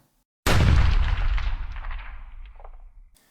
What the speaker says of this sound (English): The muzzle blast, or the thump, is the sound produced by the firing of the rifle.